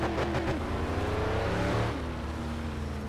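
Game car engine in My Summer Car revving hard through a drift, a loud steady roar with shifting pitch that drops and settles toward the end, no voices.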